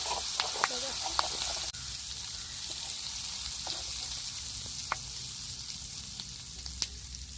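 Hot oil with masala sizzles in a pan before fish is fried, cooking outdoors by a river: a steady broadband hiss with scattered sharp crackles and pops, briefly dipping partway through before resuming.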